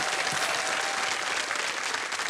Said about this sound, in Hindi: तालियों के साथ मैं चाहूंगा कि इनका स्वागत करिए।